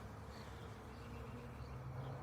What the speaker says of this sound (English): Look at all these bees.